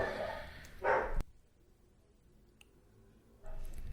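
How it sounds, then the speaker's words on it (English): A dog gives a couple of short barks close by, in a brief loud burst near the start, then the room falls quiet before another short bark-like burst at the end. "Dogs are just barking."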